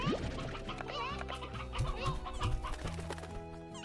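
Chickens in the farming game Slime Rancher cluck repeatedly in short bursts at a steady moderate level, layered over busy game music and background sounds.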